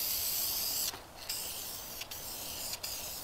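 Black rust-stop paint hisses from a spray can in a steady close stream, broken by three short pauses between bursts, with no voices.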